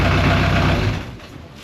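An Allied Princess 36 ketch's inboard engine runs during a prelaunch test, a low steady diesel rumble that drops off toward the end of the brief stretch.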